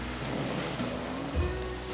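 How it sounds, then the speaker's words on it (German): Sea surf on a beach near Bastia on the east coast of Corsica, a steady broadband wash of waves with a low rumble, continuous and fairly close, no voices. "Das Meeresrauschen wurde immer lauter."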